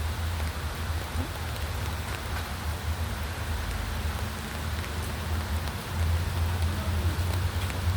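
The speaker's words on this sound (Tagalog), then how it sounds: "Umuulan pala ang Singapore." Steady rain falling in Singapore near a river or lake, a continuous even hiss of drops on surfaces with a low rumbling undertone throughout.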